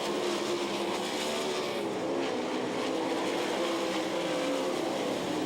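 Sprint race cars roaring around the Knoxville Nationals dirt track on the final lap, a continuous loud engine howl from several cars with no break and no voices.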